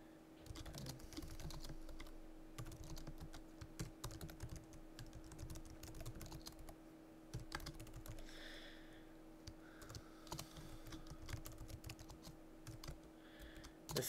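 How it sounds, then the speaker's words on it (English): Steady keystrokes tap away on a computer keyboard, close and fairly quiet, with an even rhythm over a low constant hum and no talking. "So now I type in a fictitious source here, Joe Smith"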